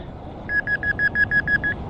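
A metal detector sounds eight evenly spaced high electronic beeps on a signal in a farm paddock, close and clear over faint background noise, with no talk.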